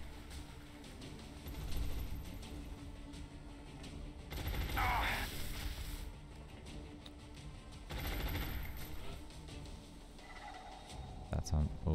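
Bursts of gunfire ring out in the turn-based strategy game XCOM Long War, several rattling volleys of moderate loudness spread across a few seconds.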